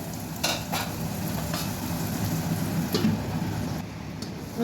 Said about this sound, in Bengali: আলু ভাজা হয়ে গেছে